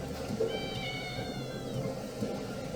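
A cat in a dapper top hat meows in the game Exorcize Me, a drawn-out harmonic mew rising and falling over about a second, heard over steady low game ambience and background music.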